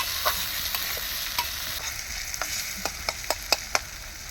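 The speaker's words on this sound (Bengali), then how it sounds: "পেঁয়াজগুলো লাল লাল করে ভেজে নেবো" Onions sizzle and crackle in hot oil as they fry to reddish brown, with a run of sharp scraping stirs near the end.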